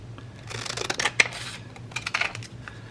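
Paper being trimmed with scissors while making a pocket, a few quiet crisp snips and rustles close by.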